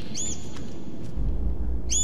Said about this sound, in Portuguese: E a gente tem um passarinho aqui também